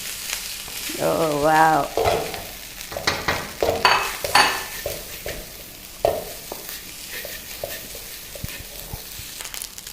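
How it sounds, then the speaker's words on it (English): Rice and egg stir-fried in a wok sizzle loudly, with scraping stirs and tosses that come in bursts throughout, while a voice briefly exclaims near the start. "Now let's add the egg as well. It's time to add the rice."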